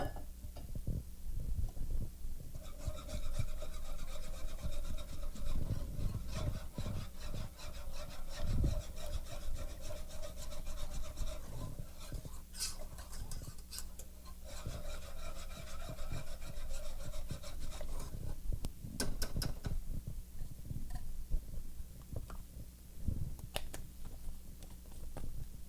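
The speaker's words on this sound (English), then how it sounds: "We're going to continue whisking it until the sauce starts to bubble and thickens" Whisk scraping through heavy cream sauce in a pan over medium heat for potatoes au gratin, a continuous rhythmic rubbing and scraping with clicking strokes, close and fairly loud.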